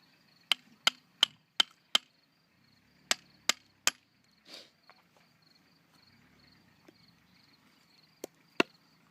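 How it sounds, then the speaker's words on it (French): A knife splits the end of a wooden stick being made into a bushcraft arrowhead, with a series of sharp, close cracking taps in quick bursts followed by a few scattered strikes. "Donc je vais d'abord fendre en fait le bout du bâton en deux."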